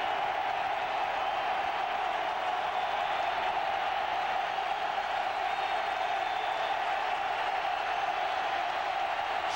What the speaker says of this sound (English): the crowd trying to rally the Jaguar defense